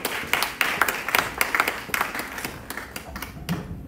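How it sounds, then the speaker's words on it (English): An audience at a Black History Festival media launch applauds as a CEO comes forward, a dense round of hand clapping that starts strong and gradually tapers off. "Let's receive the CEO of EIB Network, Mr. Bola Ray, with a round of applause"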